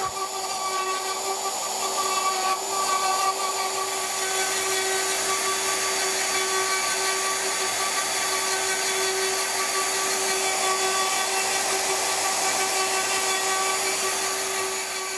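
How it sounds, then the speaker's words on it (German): A router mills excess wood off the outside of a drum shell, a steady high whine with a sustained tone and a rough cutting hiss under it, continuous and fairly close throughout, with no talk. "Millimeter für Millimeter trägt die Fräse das überschüssige Holz ab."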